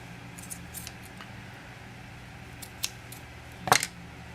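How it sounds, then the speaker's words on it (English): Small scissors snip through a stray thread on a handmade miniature pillow, a single quiet crisp cut near the end after faint rustling handling sounds; no talking. "So to fix that, we will snip it off."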